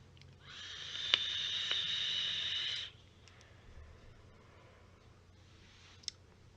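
A loud hissing whistle of air rushes through an Oumier Wasp Nano RDA vaping atomizer for about two seconds, then stops, leaving faint clicks and quiet background.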